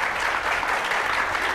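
Studio audience applause, a brief, steady burst of many hands clapping close and fairly loud.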